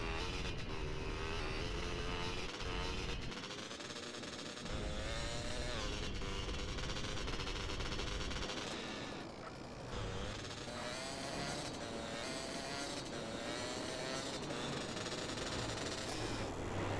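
A car drives in GTA San Andreas, its engine droning steadily with shifting pitch as it accelerates and eases off, a continuous mid-loud motor sound with brief dips.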